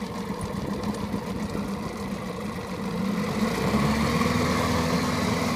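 A small 9.8 horsepower Mercury outboard on a 24 ft Marauder yacht idles steadily, a close, even mechanical hum and putter that grows slightly louder partway through, with no talking.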